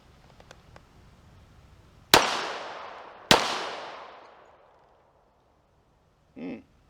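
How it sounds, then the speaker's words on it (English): Two sharp, loud pistol shots from a Tisas Raider firing Federal 230 grain FMJ rounds, each followed by a long decaying outdoor echo, with a brief faint clatter afterward. "Let's fire off. I'm going to fire off 2 mags just to show that it functions"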